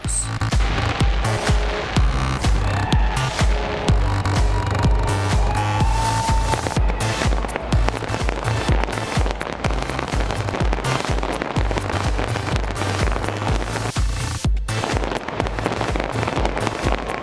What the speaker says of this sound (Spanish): El show de fuegos pirotécnicos iluminó a medianoche el cielo de Rusia sobre el Kremlin, dándole bienvenida al nuevo año.